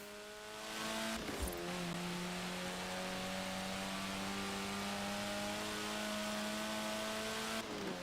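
A Lotus Elan, a 1960s sports car, drives in Forza Horizon 4 with a steady, sustained engine drone holding a constant pitch, with a brief burst of noise near the start.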